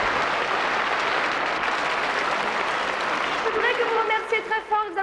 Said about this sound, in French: Je voudrais que vous remerciez très fort, que vous applaudissiez très fort.